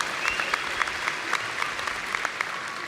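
Scattered applause from a graduation audience at a community college ceremony, fairly faint and thin with a few individual claps standing out over a steady hiss of room noise.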